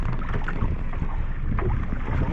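A fishing boat's engine keeps running at anchor in shallow water about 17 feet deep, a steady low rumble under wind and water noise, continuous throughout with no talk.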